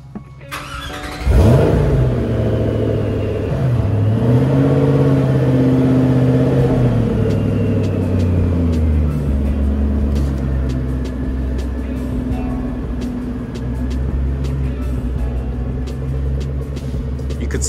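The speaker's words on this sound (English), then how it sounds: "I'm gonna stand in the line of sight for Justin starting the car." A 2006 Ford GT engine cranks and fires, then settles into a loud, deep idle with a couple of rising revs, close by and steady for over fifteen seconds.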